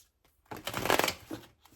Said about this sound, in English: This is such a small table, so I do struggle to shuffle on here